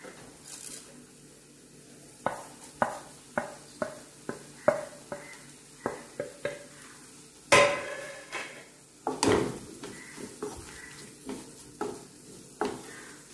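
Crushed coconut being added and stirred into a spice mix in a pan for a yam dish, with a soft sizzle and repeated scraping clinks of a spoon against the pan, fairly close.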